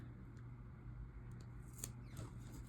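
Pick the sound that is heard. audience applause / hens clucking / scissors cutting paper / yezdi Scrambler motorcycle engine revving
scissors cutting paper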